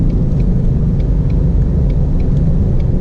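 A 2019 Ford Mustang GT Performance Pack V8 drones steadily from inside the cabin while driving around small roundabouts, a loud continuous low rumble with no talking.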